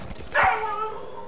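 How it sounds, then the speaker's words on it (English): A single sharp dog bark, a short yip-like bow-wow rising suddenly and fading quickly, heard during Star Wars Jedi Fallen Order gameplay with no talking over it. "my dog's gonna use big bark"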